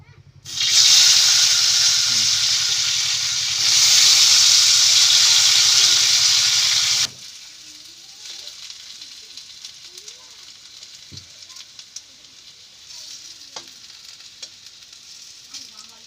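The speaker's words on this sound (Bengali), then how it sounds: "এবার আলুগুলো ভেজে নেব।" Potatoes fry in hot oil with a loud, steady sizzle for about six seconds, then the hiss drops to a faint crackle with scattered clinks and light stirring.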